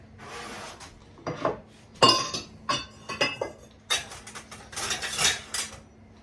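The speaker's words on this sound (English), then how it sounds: "Then I'm going to give this a good stir." A spoon stirs homemade cranberry sauce in a pot, irregular bursts of scraping and clinking against the pot sides, close and fairly loud, separated by short quiet gaps with no talk.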